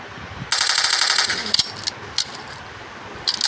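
Gunfire from a favorite weapon in a warfare zombie video game: a loud rapid automatic burst of about a second, then several short separate shots and clicks at irregular intervals, with no talking.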